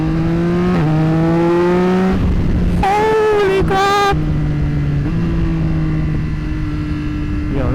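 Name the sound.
Yamaha R9 motorcycle accelerating through gears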